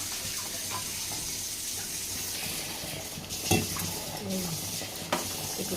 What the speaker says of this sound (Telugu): ఇదైతే శనగపిండి అయితే వాటర్ వేసుకొని ఇలా కలిపెట్టుకోవాలి